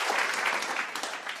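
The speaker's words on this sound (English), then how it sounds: "Let's give him a big round of applause." Applause from an audience at a Monday club meeting, a dense, steady patter of many hands clapping throughout the short stretch with no voices over it.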